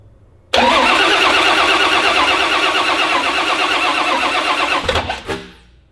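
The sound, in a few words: car engine cranking, trying to start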